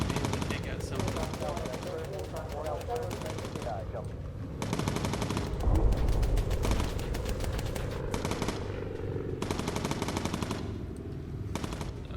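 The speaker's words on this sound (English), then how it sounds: "Hopefully, our gun will be able to take out some of them." Bomber machine guns in the Bomber Crew game rattle in rapid bursts against attacking fighters, fairly faint and steady over engine drone, with a few heavier impacts mid-way.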